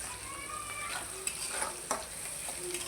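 Onions sizzle in a hot pan with salt added early, a steady bright frying hiss with a few sharper crackles and stirring scrapes, close and alone.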